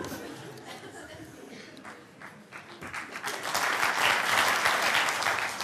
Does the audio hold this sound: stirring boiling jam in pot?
no